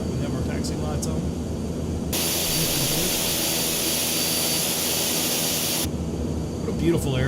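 Steady, loud turbine roar from a King Air 350 taxiing in a flight simulator game, swelling abruptly as power comes up and dropping back after a few seconds, with a constant lower engine drone underneath throughout.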